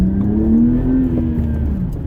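A BMW E90 engine fitted with an aFe Magnum Force Stage 2 cold air intake revs loudly up close, a deep throaty roar with a rising whine, holding steady for a couple of seconds.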